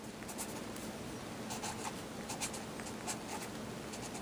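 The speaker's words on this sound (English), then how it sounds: "So I'm gonna write on here," A hard, pen-type marker tip scratches across a surface in short strokes, soft and close, coming in small bursts against a quiet hiss with no one speaking.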